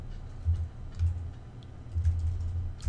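Computer keyboard typing code, with quick soft keystrokes in short bursts and brief pauses, close and alone.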